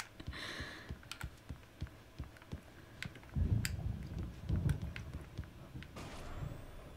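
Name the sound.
typewriter typing in the video game Alan Wake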